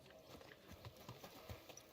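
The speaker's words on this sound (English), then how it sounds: "I'm just calling my horse. Easy, good horse." Horse hooves clip-clop at a slow walk on a road in Kingdom Come: Deliverance II, a few distinct thuds over quiet ambient background.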